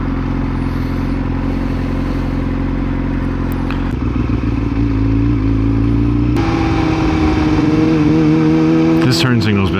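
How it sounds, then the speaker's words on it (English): A motorcycle engine drones steadily and loudly while the bike is ridden, with wind rush and shifts in engine pitch as it changes speed. "I'm assuming you like hearing the bike"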